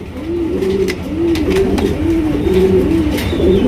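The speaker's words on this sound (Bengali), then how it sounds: "একজোড়া কিং কবুতর দেখতেই পাচ্ছেন হোয়াইট কালার কিং" A pair of large white King pigeons coo steadily at a farm, with repeated rolling coos close by over a constant background din.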